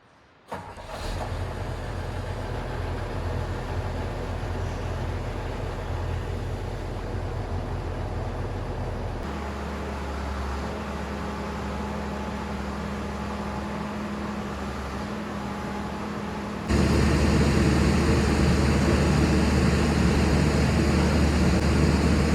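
An excavator engine cranks, catches and settles into a steady, loud diesel drone on a mountainside dig site, then rises to a heavier, louder running note near the end, with no talking.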